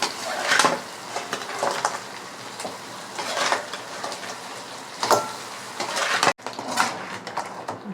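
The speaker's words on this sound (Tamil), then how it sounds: "நம்ம இது கூட வந்து நம்ம மசாலா போட்டு ஊற வச்ச நண்டை வந்து இதில் வந்து சேர்த்துக்கலாம்" Marinated crab is tipped into masala in a pan and stirred, with irregular clinks and scrapes of a spoon against metal and soft sizzling, close by and without talk.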